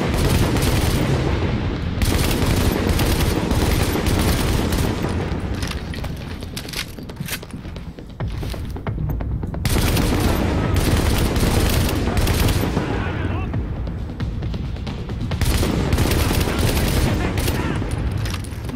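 Heavy gunfire in The Division on PC: sustained bursts of automatic fire and booming shots pound almost continuously, loud and dense, with brief lulls and a voice talking over the fighting.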